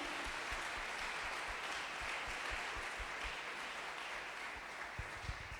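Steady applause from a church congregation, a continuous wash of clapping with a few sharper claps standing out near the end.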